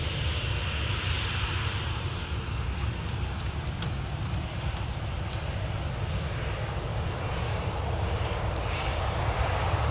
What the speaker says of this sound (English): So they've just passed by us at about 300 feet away.